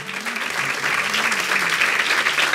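Sustained, full applause from a church congregation at a Spanish-language service, many hands clapping thickly together, with a faint low voice or tone humming beneath.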